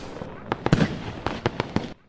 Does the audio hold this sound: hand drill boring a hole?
no